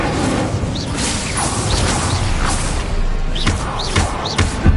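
Incendio fire spell combat in the video game Hogwarts Legacy, a loud, busy mix of whooshes, fiery bursts, thuds and crashing impacts repeating every second or so with no clear pauses.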